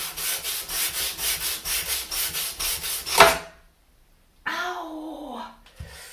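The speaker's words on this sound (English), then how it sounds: "I'm thinking I should probably try to sand this down before putting the trim on." Rhythmic back-and-forth sanding of a wooden harp frame, about a dozen close, even strokes ending in a scrape. Then a short silence and a brief voice.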